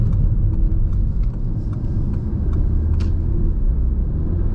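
A 2019 Audi TT RS in normal mode accelerates from low revs, its engine a loud, steady rumble heard from inside the car, with faint turbo whistles on top and a brief high hiss near the end.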